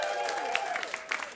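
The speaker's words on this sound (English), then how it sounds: "So give them both a round of applause." A brief burst of steady audience applause for two performers at a welcome session, with a voice faintly underneath.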